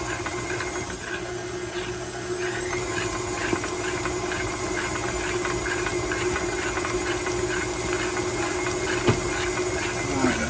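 An electric mixer creams butter, shortening and sugar for chocolate chip cookie dough, a steady whirring motor drone with a constant hum running throughout.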